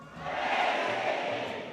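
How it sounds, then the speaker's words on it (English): An audience of about 1200 at an international convention presentation yells together in a short, loud crowd roar that swells and then eases over under two seconds, heard from within the hall. "The crowd was so impressed they punched the air and yelled."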